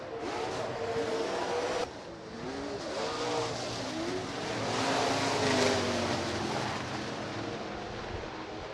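Late model street stock race cars roaring around a speedway in a heat race, loud engines rising and falling as they sweep past, with shifting pitch and a swelling pass near the middle, no talk.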